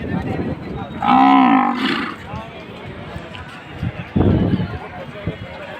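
Young bulls at a weekly cattle market give a loud, drawn-out moo close by, followed by a shorter second call, over a busy background of market chatter and people talking.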